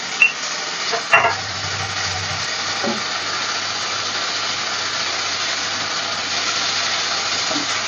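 Chopped garlic and ginger roast with spices in a hot pan, a steady close sizzle and hiss with a couple of sharp clatters early as the pieces go in, then continuous frying.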